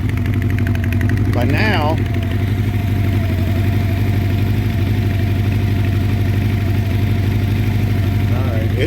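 A 1984 Honda CB700SC Nighthawk motorcycle engine runs steadily on choke, a loud, close, even idle throughout, with someone talking briefly over it.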